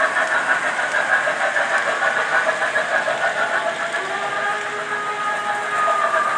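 An MTH model train pulling a long string of Santa Fe passenger cars, a steady rolling rumble and clatter of wheels on track that continues without a break, close by and fairly loud, with no talk over it.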